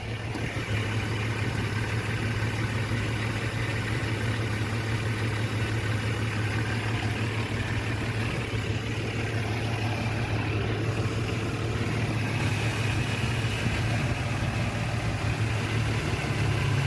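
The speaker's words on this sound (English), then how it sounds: "It's misfiring." A 1989 Jeep Comanche Eliminator engine idles roughly with a misfire, a steady, close, low rumble that goes on without a break and with no talking.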